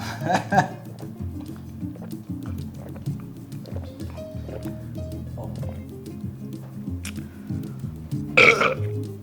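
Someone burps during a casual beer-drinking chat, a rough, gurgling belch that stands out loudly near the end amid background chatter and clinking noises.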